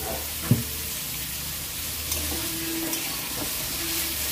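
Papaya and carrot cooking in a pan, a steady close sizzle with a sharp knock near the start and a few light scrapes of stirring, no voices.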